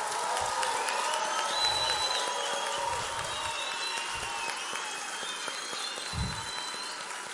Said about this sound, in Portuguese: Eu gostaria de uma salva de palmas à braveza da ministra